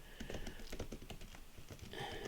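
Typing on a computer keyboard, a quick, uneven run of soft key taps, close and quiet, with no talking.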